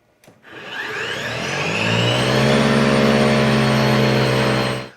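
Ryobi 40V two-stage battery snow blower with its auger spinning up indoors: a brief click, then a steady electric motor whine and churning hum that rises and holds loud for several seconds before cutting off.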